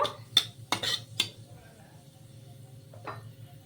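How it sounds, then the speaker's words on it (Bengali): Nigella seeds fry in oil in a kadai (wok) while a spatula stirs them, producing a few sharp metallic scrapes and clinks early on, then a softer one later over a low, quiet sizzle. "কালো জিরেটাকেও ভালো করে একটু ভেজে নেব"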